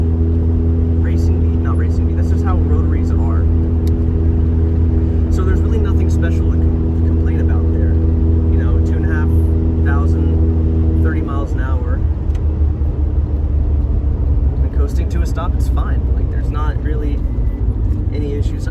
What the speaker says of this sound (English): the best way to describe this exhaust system is it can be droney if you are going down the highway